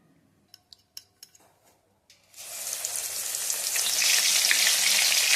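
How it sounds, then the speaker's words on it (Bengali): A few light clicks and taps lead into a sudden loud, steady sizzle as gram-flour battered flowers drop into hot oil in a pan and keep frying. "একে একে বেসনে চুবিয়ে আর এই তেলে ছেড়ে দিলাম"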